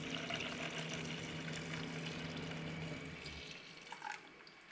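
Ice cream mixture is poured into a Cuisinart ice cream maker, giving a soft, steady, faint stream of liquid that thins out toward the end, heard close up.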